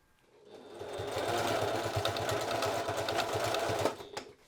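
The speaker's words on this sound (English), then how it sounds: "And then we're going to sew directly on top of the line that we made." A sewing machine stitches the side seam of an envelope clutch bag, a rapid close mechanical chatter that starts up, runs steadily for about three seconds and then stops.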